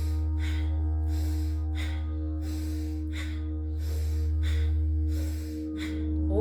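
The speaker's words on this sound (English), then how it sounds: "So shoulder shrugs, inhale up, exhale down" Slow rhythmic breathing during shoulder shrugs, about six soft inhale-exhale cycles, close and airy over a steady low electrical hum.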